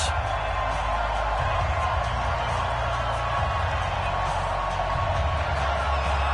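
A stadium crowd in an NFL football video game, New York Jets versus Atlanta Falcons, roars in a steady, dense wash of cheering that holds at an even level throughout with no break.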